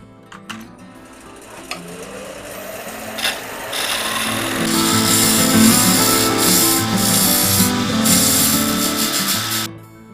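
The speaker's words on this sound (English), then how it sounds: "So use this skew to put a slight dovetail tenon on this end of the piece." A skew chisel cuts a slight dovetail tenon on the end of a wooden piece spinning on a lathe, making a steady rasping, scraping hiss that builds and holds loud for several seconds.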